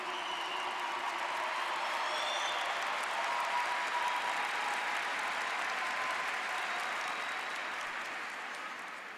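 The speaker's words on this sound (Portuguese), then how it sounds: "Pode aplaudir." A church congregation applauding during a healing service, sustained, evenly dense clapping heard from a distance that tapers off toward the end, with a voice faintly audible over it.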